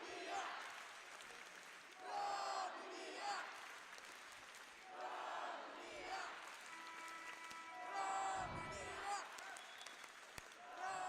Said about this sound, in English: And just listen to the crowd.